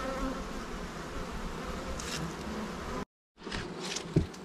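Honey bees buzz at the hive in a dense, steady hum, with individual bees passing close by. A brief dropout breaks the sound before the buzzing resumes.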